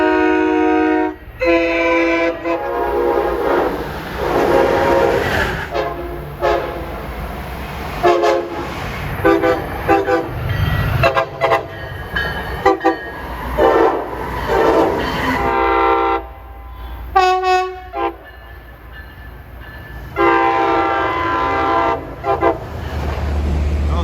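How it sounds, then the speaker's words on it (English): Long Island Rail Road train 136, the Babylon Express, pulls into Jamaica station on track 7, horn tooting in repeated blasts over rumbling wheels and rail noise, loud and close throughout. "arriving Jamaica on track 7 is train 136, Babylon Express"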